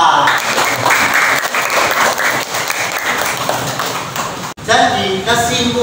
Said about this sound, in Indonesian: tepuk tangan untuk kelompok keempat